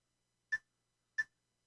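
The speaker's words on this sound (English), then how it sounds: "Do you know what that beeping is as well?" A phone gives two short, clean electronic beeps about two-thirds of a second apart against silence, crisp and fairly quiet.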